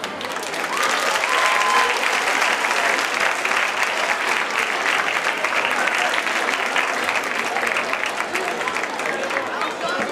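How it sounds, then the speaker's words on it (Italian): Loud, sustained audience applause at a final evening show, many hands clapping in a dense, even wash that holds for the whole stretch, with voices faintly mixed in. "Adesso io e la Melissa volevamo fare un ultimo e grandissimo applauso"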